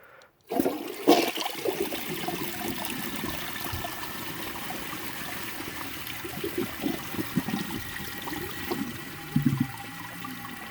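A 1976 Eljer Emblem toilet flushes close up with a sudden rush of water that swirls and gurgles steadily, trickling on for several seconds.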